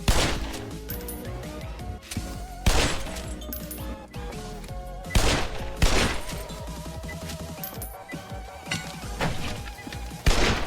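Desert Eagle pistol shots ring out in the video game Operation One, several sharp, loud reports spaced irregularly across the clip over a busy backdrop of game sound and music.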